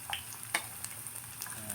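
Bitter gourd being fried with garlic and onion in a pan over a portable butane stove, giving a steady close sizzle with a few sharper crackles and stirring scrapes, no talking.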